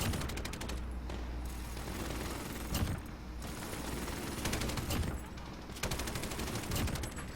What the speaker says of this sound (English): my sentry turret's starting to whack them